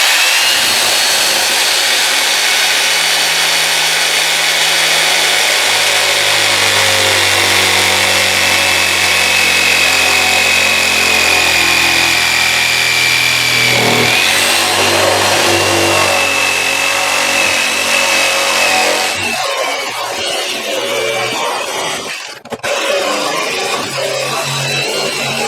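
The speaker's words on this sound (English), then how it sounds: "I got an old jigsaw I used to cut open barrels" An old jigsaw plunge-cuts into a plastic barrel, a loud, steady buzzing drone that shifts pitch as the blade works, then turns rougher and more ragged with a brief dip near the end.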